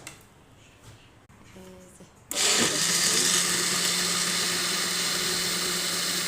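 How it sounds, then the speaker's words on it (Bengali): Raw mango juice with green chillies whirring in an electric blender, which starts abruptly after a quiet moment and then runs at a loud, steady high-pitched roar right up close. "এখন ব্লেন্ড করব।"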